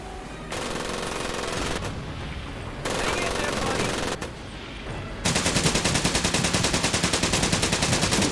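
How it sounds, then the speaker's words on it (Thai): Rapid machine gun fire from the video game Medal of Honor: Pacific Assault rattles in long bursts, the last stretch a dense, relentless stream of shots, with game-like effects between bursts. "ปืนกลปืนกล"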